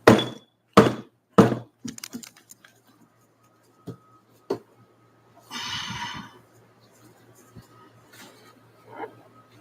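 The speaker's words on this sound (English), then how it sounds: "I'm going to bang it, so it's going to be loud." A metal tank is banged to knock chips loose, giving three loud heavy thuds in quick succession, followed by lighter knocks, a brief rattling scrape and a few faint taps.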